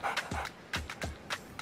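A dog barks in a scene from the Egyptian comedy film 365 Days of Happiness, with four or five sharp barks in a quick, evenly spaced series, loud and close.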